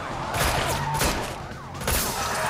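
Bursts of gunfire from an Unreal Engine 5 tech demo, a few loud volleys with crashing impacts spread over a couple of seconds, dense and close.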